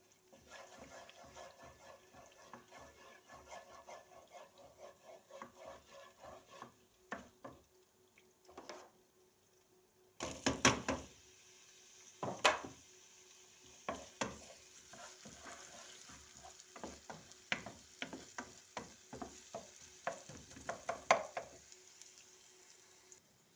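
Onions frying in butter and oil in a pan for buttered bulgur pilaf, a steady sizzle with repeated scraping stirs and clinks of the utensil against the pan, close and alone.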